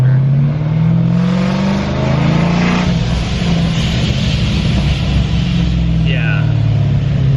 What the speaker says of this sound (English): Hear that blow-off sound.